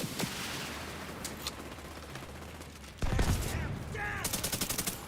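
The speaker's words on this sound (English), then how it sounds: "Let's shoot this stupid rocket launcher" Rapid bursts of video game gunfire from a rocket launcher, a loud cluster of shots near the start, then a dense volley with repeated sharp reports toward the end.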